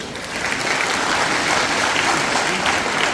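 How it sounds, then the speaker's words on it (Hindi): Applause at a church blessing ceremony in Pathalgaon, a loud, steady roar of many people clapping together, dense and continuous from start to finish with no clear gaps. "हेलो, कोई ताली बजाएंगे।"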